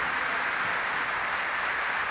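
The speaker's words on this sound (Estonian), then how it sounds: "Aplaus suurepärasele orkestrile Siim Aimla juhatusel." Audience applause for an orchestra conducted by Siim Aimla, a steady dense wash of clapping held at even loudness throughout with no voices over it.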